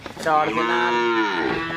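A large Indian Jersey dairy cow lets out a single long, loud moo nearby, steady and drawn out, dipping in pitch toward its end.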